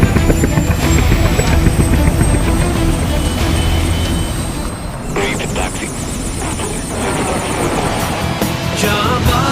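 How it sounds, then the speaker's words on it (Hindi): An indigenous Prachand light combat helicopter flies at an Air Force Day air show, a loud, steady rotor and engine roar filling the whole stretch, with faint voices beneath it. "पहली बार देश में निर्मित लाइट कॉम्बैट हेलीकॉप्टर प्रचंड"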